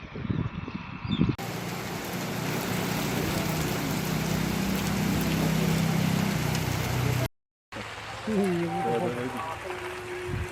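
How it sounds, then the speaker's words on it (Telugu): Unseasonal rain falls in a farming area where grain procurement is underway, a dense steady hiss of downpour on surfaces that holds close and loud for several seconds, then cuts off as a voice speaks near the end. "వర్షాలు పడుతున్నాయి"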